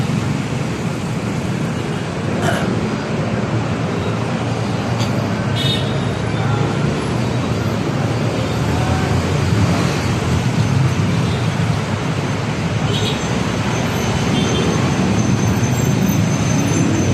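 Constant, loud road traffic on Mindanao Avenue in the Philippines, a dense rumbling wash of engines from cars, buses and motorcycles stuck in slow congestion, with no break throughout.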